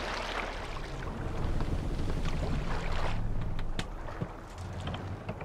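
A boat sails out in the Viking-era game Assassin's Creed Valhalla, a low, steady rush of water and wind with faint creaks, a continuous and fairly quiet wash without speech.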